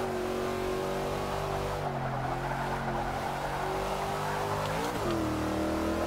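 Dodge Charger Daytona engine roaring steadily on a warm-up lap in Forza 6, a loud continuous drone with shifting pitch and a brief rev change near the end.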